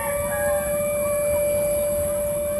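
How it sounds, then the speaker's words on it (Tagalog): A 5 o'clock siren sounds from a distance as a steady, sustained wail over a low background rumble, with no talking. "Tumunog na yung sirena dito."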